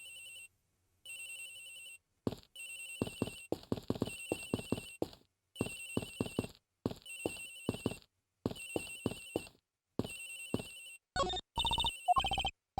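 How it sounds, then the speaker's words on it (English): Cell phone ringtone in the Ace Attorney Investigations video game, a bright electronic melody of short beeping notes repeating in bursts separated by brief pauses, heard clearly on its own without talk. "Agent Hicks' phone, it's ringing from somewhere, sir."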